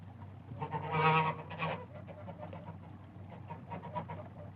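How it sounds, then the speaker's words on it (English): Geese call outdoors with a cluster of nasal honks at the start, then fainter scattered calls trail off over a steady low background rumble. "And there were geese."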